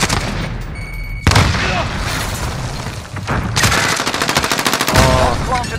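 Automatic weapon fire in a Call of Duty Search and Destroy match on the Piccadilly map, with rapid bursts of shots and booms that crackle repeatedly, loud and close, over game ambience.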